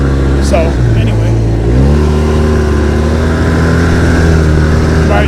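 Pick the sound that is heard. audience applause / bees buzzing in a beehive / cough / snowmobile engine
snowmobile engine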